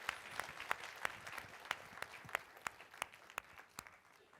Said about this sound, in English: Let's give a round of applause to these great women.